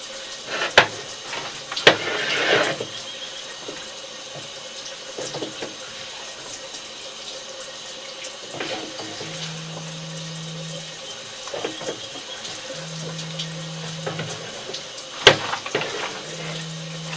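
Water trickles and runs steadily to rinse a sewer inspection camera, with scattered sharp clicks and clatters and a low mechanical hum that comes and goes in short stretches.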